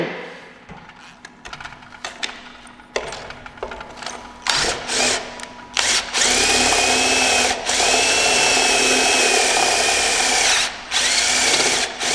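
A power drill with a step drill bit bores steadily through metal, its whine rising and holding at a high pitch after several short stop-start bursts, loud and close.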